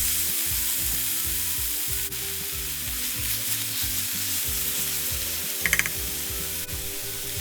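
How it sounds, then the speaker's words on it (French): Kimchi sautéing in hot oil in a pan, a loud continuous sizzle close by with occasional stirring scrapes and a few light clicks, no speech. "On va faire revenir le kimchi pour que les arômes se dégagent."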